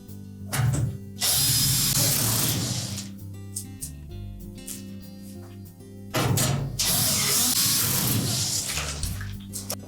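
A power drill drives screws into the front panel bracket of a Whirlpool washer, two loud whirring bursts separated by a short pause, close and clear with no talk.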